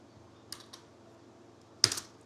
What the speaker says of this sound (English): So I'll do shift enter here from the keyboard and I'll be able to run the cell.